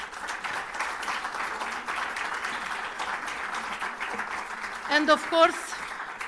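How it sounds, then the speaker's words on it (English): Audience applause at an awards ceremony celebrating civil society, sustained clapping from a crowd filling the room, with someone speaking over it near the end. "Can we get a huge applause for them?"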